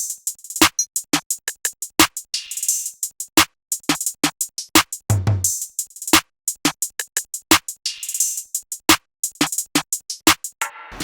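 A simple, steady hip-hop drum loop of crisp, punchy hits in a repeating groove, with sharp clicky rim accents and a brief low tom thud near the middle; no voices.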